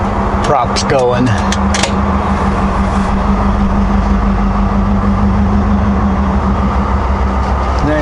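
A ferry's propellers churn in reverse with steady low mechanical churning and diesel engine drone filling the whole stretch, with a brief high whine near the start; loud and continuous.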